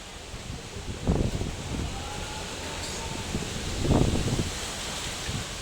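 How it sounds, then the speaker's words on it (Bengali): Strong wind gusts rush and roar through rustling coconut trees, swelling twice into louder bursts over a constant blustery background. "দেখেছো কি হাওয়ার শুরু মানে নারকেল গাছ কীরকম দুলছে"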